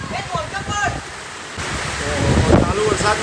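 Rain falls steadily in a monsoon downpour, a constant close hiss of drops, while someone shouts and people talk over it.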